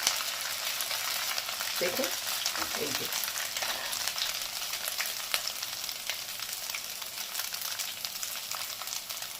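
Semolina frying lightly in oil on low heat gives a continuous soft sizzle with scattered crackles, while a voice speaks briefly.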